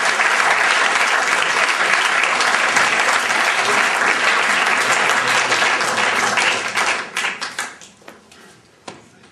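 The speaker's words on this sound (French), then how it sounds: "Je vous demande d'applaudir très fort Cédric Le Provost." A large audience at a film premiere bursts into loud, sustained applause that fills the room for several seconds, then thins into scattered, fading claps near the end.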